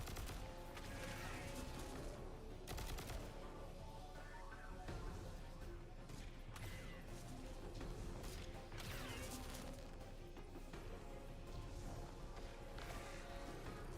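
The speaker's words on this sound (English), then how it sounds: "I was the only one shooting" Loud, sustained automatic gunfire in Destiny 2, crackling shots overlapping with clanking mechanical effects and crashes throughout.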